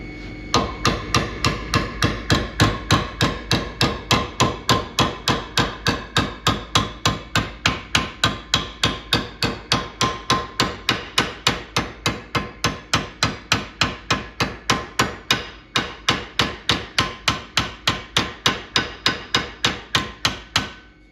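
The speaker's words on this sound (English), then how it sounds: "I'm going to have to use a hammer to tap the metal" A hammer strikes metal held in a vise in a fast, steady rhythm, dozens of sharp ringing taps close by with no talking.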